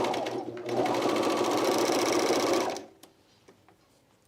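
A sewing machine runs steadily for about two and a half seconds while stitching self binding onto a camisole, then stops, leaving faint handling clicks.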